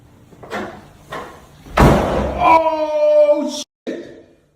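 A door slams shut with a loud, broad thud, followed by ringing tonal reverberation and scattered background noises and voices in a supposedly haunted room.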